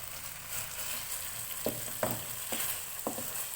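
Chicken and ketchup sizzle softly in a pan while being stirred, with a gentle frying hiss under four distinct scraping strokes of a spoon in the second half.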